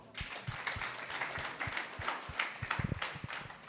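A live audience at a Helvine Foundation children's charity event breaks into sustained applause, a dense wash of hand claps with a few sharper, closer claps standing out near the end.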